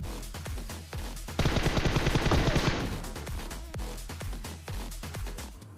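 Pump shotgun and other gunfire in a battle royale video game match, a dense loud burst of rapid shots in the middle over steady game music and sound effects.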